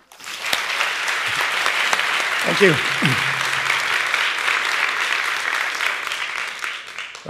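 Audience applause at a TEDx event at Wageningen University as a speaker is welcomed onto the stage: sustained, dense clapping throughout, with a brief voice speaking over it partway through.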